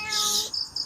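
Cat meowing in a forest, a single drawn-out meow followed by short high chirps, with insects or birds buzzing faintly behind.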